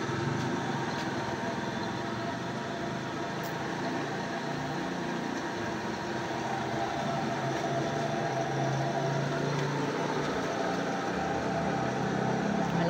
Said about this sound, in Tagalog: Maganda pa yung tunog ng motor natin dahil may nahihigop pa na tubig.